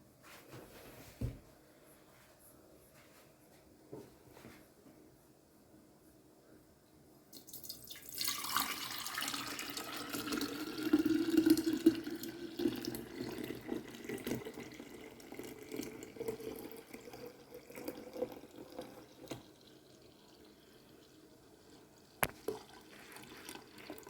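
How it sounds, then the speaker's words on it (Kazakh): Homemade kefir poured into a jar, a quiet liquid stream starting partway in and running for about ten seconds before tapering into faint trickles, with soft handling noises around it. "Банкаға құйып қойып."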